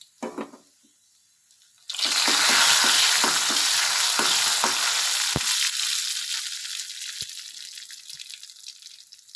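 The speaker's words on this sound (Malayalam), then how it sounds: "ഇനി ചമ്മന്തിക്കും കൂടെ ഒന്ന് കടുക് വറക്കണം." Mustard seeds hit hot oil for a chutney tempering, bursting into a loud close sizzle crowded with sharp pops that gradually thins and fades, after a brief quiet lead-in.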